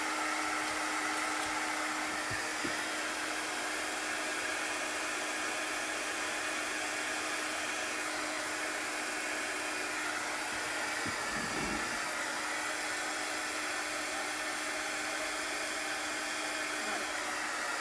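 A hand-held dryer blows over freshly washed chalk transfers in a steady, unbroken whir that stays loud and close throughout, with no talking.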